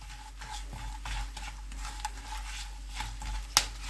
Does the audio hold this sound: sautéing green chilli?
yes